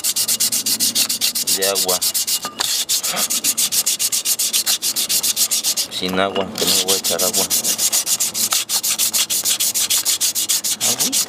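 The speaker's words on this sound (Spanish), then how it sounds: "vamos a darle una asentadita con una lija" Rapid, steady scraping of sandpaper rubbed back and forth over a metal brake drum from an Atos car, continuous and close, with someone speaking briefly over it.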